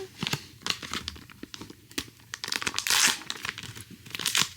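Plastic packaging from a convenience store gacha toy is crinkled and torn open close by, in a rapid series of sharp rustles and crackles.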